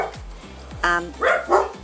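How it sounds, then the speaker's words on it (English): A pet dog barks indoors at home, a run of about three loud, close barks, the first short and the last two stronger, with no talk over them. "my dog barks"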